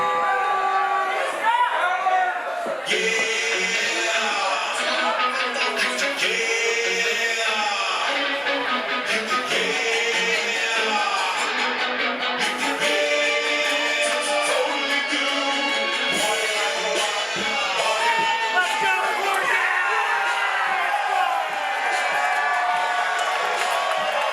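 A rowdy crowd at a live pro wrestling show in an outdoor pavilion at an anime convention, cheering, whooping and chattering continuously and loudly, with a commentator speaking over the din.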